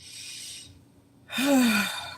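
A full, deep breath drawn in audibly after a short pause, a single close inhalation that swells and then eases off, with no talking over it.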